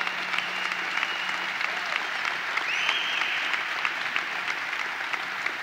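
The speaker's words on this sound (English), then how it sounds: "Let's give them a round of applause." An audience at a state fair opening ceremony claps in steady, sustained applause, a dense even patter throughout with no talk over it.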